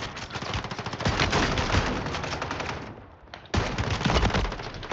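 Sustained automatic gunfire in Warzone 3 Plunder mode, loud and continuous with a short dip partway through before the rapid shots resume at full strength.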